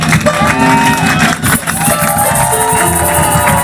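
Church congregation at an evangelical service in Lyon cheering and acclaiming a pastor, a loud crowd roar with shouts and whoops over music, briefly dipping midway before surging again.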